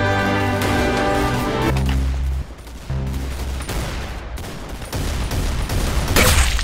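Rapid bursts of automatic gunfire and single shots ring out in the Roblox shooter Arsenal, loud and close, over a running game soundtrack with shifting tones.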